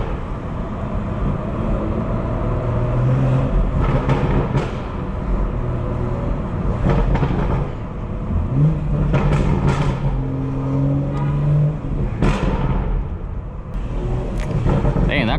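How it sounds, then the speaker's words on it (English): A modified BMW 440i revs loudly on a New York City street, engine roaring in repeated surges that rise and fall over steady traffic noise. "His car was so loud that it was so hard for you guys not to hear it."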